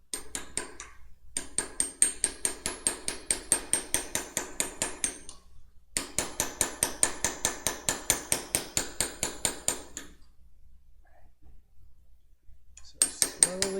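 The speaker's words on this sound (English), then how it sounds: "So this chisel is working excellent. I've just loosened this edge." Chisel struck repeatedly with a hammer to loosen an edge in a workshop, producing rapid ringing metallic taps in steady bursts separated by short pauses, close up with no talk.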